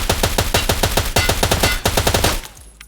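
Rapid automatic hip fire from a .308 KelTec RFB bullpup rifle in Escape from Tarkov, a loud close burst of evenly spaced shots for over two seconds, then stopping with a brief fading tail.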